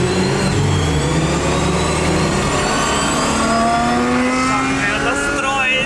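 A racing car's engine revs hard with rising and falling harmonic sweeps as gears change, loud and continuous, with people talking over it.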